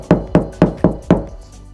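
Five evenly spaced knocks on a sound-deadened, treated car door give short, dull, damped thuds with little ring, heard up close and alone.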